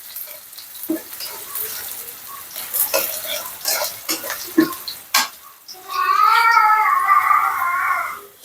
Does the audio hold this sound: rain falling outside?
no